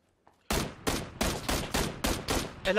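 Gunshots in PlayerUnknown's Battlegrounds, a rapid series of about eight loud, evenly spaced shots fired one after another at close range, with a faint voice right at the end.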